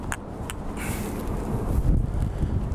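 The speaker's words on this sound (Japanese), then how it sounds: "風がめっちゃ吹いてきた。" Strong wind gusts roar in broad, steady turbulent buffeting across the microphone, rising slightly in force toward the end, with no voices present.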